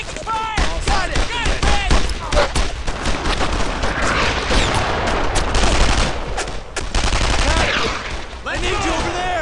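Gunfire in Brothers in Arms: Earned in Blood comes in dense, loud bursts of rifle and machine-gun shots with rapid repeated cracks, while shouting voices are heard over the battle.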